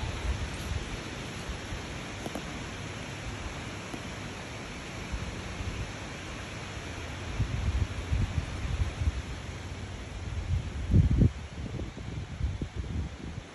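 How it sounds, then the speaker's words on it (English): Wind on an outdoor hiking trail, a steady broad rushing hiss that swells into stronger buffeting gusts toward the end, with no talking. "Wind feels great out here."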